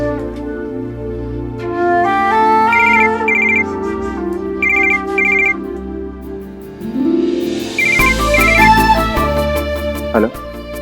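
Telephone ringtone from a Hindi television drama: a repeating electronic ring pattern sounding in bursts at moderate loudness over background music, with no talk.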